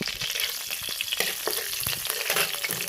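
Dry red chillies and whole cumin fry in oil in a wok with a steady, close crackling sizzle, punctuated by a few quick stirring scrapes, with no voices.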